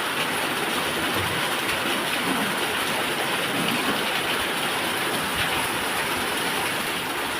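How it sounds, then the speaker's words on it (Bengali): Steady rain falls behind a house by a guava tree, a dense, even hiss of drops on surfaces that holds at the same loudness throughout with no voices. "এখন কি সুন্দর বৃষ্টি হচ্ছে।"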